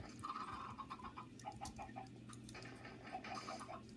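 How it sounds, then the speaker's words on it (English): Chickens clucking in the block game Minecraft on an island, quiet repeated short clucks and chirps scattered over a low background hum. "Why is there so many chickens on this island?"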